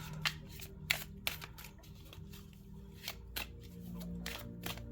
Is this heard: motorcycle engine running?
no